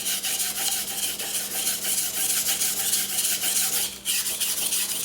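A kitchen knife is drawn repeatedly across a hard Beston 500 grit whetstone, giving a steady, close scraping rasp that continues without pause and briefly drops near the end.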